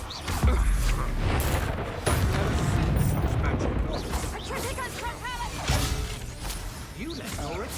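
Fiery blast spells, Confringo, burst repeatedly in Hogwarts Legacy combat, loud booming explosions and crashes layered over a dense, continuous noisy battle mix.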